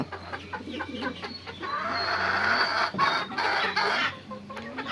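Chickens in an open-air coop cluck and croon repeatedly, a busy close-up run of short clucks and drawn-out calls over a steady low hum, with no talking.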